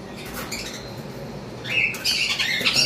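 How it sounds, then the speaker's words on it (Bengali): Cream-face cockatiels squawking in a cage, a few short harsh calls rising near the end over a steady background hiss. "এইখানে 3 পিস ক্রিম ফেস কোকাটেল রয়েছে।"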